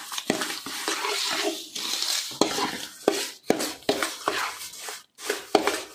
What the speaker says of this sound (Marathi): व व्यवस्थित असं 1-2 मिनिट परतून घ्यायचं आहे।